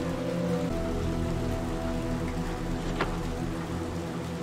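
Steady rain pours in a dense, even hiss in the video game Little Nightmares 2, with one brief sharp tick partway through.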